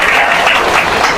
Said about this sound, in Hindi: ताड़ियां मार दो यार,